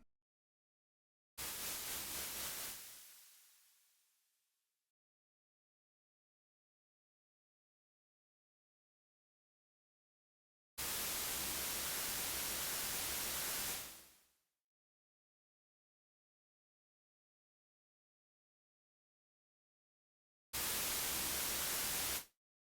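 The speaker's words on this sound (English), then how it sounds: "Once we've captured the noise onto an audio track" Three bursts of broadband synthesizer noise hiss from an OP-1 Field, separated by silence; the first fades out gradually, the second holds then cuts off, the third is short and abrupt.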